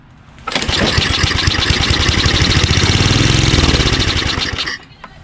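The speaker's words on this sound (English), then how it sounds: "I'm just going to give it a pull a few times to see if it turns over" A Tecumseh 5HP engine on a 24-inch two-stage Simplicity snowblower, choke closed, is pull-started and catches, running loud and close with a rapid chugging, uneven beat for about four seconds before cutting out.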